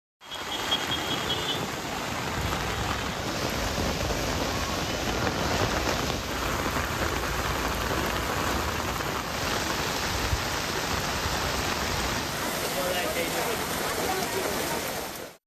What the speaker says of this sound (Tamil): இரண்டாவது நாளாக மாலையில் இடி மின்னலுடன் கனமழை பெய்தது